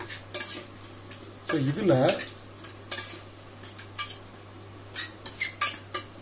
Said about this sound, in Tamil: இப்போ இந்த மசாலா எல்லாம் மிக்ஸ் பண்ணிக்கலாம்.